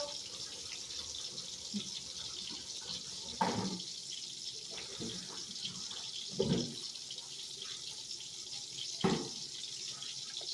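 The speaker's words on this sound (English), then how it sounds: "I'm going to go ahead and wash a couple of the bowls that I have because you want to clean as you go." Kitchen tap running quietly while bowls are washed in the sink, a soft steady water hiss with a few faint clinks and splashes of dishes.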